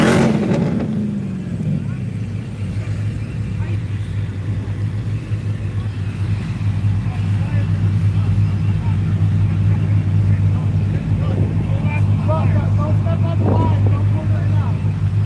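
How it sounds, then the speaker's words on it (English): A Dodge Durango engine rumbles and revs in a city street, its deep steady roar echoing off a nearby building, loud and continuous, with faint higher tones drifting in near the end. "can hear that Durango ricocheting off of that building"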